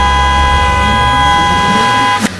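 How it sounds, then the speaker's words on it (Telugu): A loud, sustained horn blares at a steady pitch for about two seconds, then cuts off abruptly. "మా వాడు డ్రైవింగ్ చేస్తున్నప్పుడు వెనక నుంచి ఎవరైనా హార్న్ కొట్టాడు అనుకోండి"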